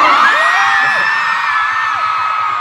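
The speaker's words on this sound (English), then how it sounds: "These are a loud crowd." A loud crowd at a 2016 SHINee fan meeting in Dallas cheers and whoops continuously, with high-pitched yells rising above the steady roar.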